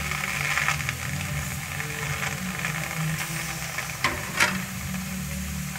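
Small chopped potatoes go into a hot pan for a cabbage and moong dal dish and hiss in a steady, close, broadband sizzle, with a couple of brief louder crackles near the end.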